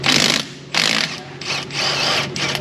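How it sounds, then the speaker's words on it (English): An impact or power tool whirs in several loud bursts with brief pauses between them, working the 18 mm brake caliper slide pin bolts loose on a 2000 Chevy GMT800 Silverado. "Let's pull these slide pin bolts out."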